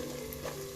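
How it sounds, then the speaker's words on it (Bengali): Spice masala sizzles in hot oil in a pan while being stirred for a chicken korma, a faint, steady frying hiss with soft scraping and no talk. "সবগুলো উপকরণ এখন খুব সুন্দরভাবে কষিয়ে নেব"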